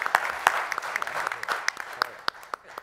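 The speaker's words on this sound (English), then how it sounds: "Round of applause for Ted." Conference audience at a startup brewery pitch challenge claps for a brewery founder coming up on stage, a moderate round of individual claps with sharp distinct hits, fairly close and fading toward the end.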